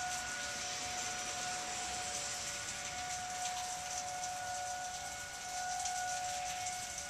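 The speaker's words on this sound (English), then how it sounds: "And now we're getting sirens for some reason." A tornado warning siren in Monroe County, Michigan wails steadily in the distance under a broad hiss of wind or rain, with a sustained tone holding throughout and no voices.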